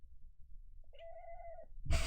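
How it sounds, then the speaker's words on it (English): A cat gives one drawn-out meow, close and fairly clear in a quiet room, followed by a brief burst of rustling noise. "Oh, my kitty. Someone just woke up."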